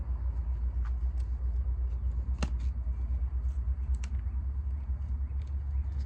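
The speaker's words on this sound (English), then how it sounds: "I swear I hear a truck about to drive right by me." A low engine rumble of a truck passing close by, steady and heavy throughout, with a few faint clicks over it.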